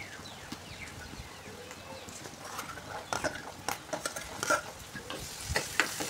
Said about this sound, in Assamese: ৰাখিব লাগিব, মটৰ যাতে ফাটি যায় তেলত।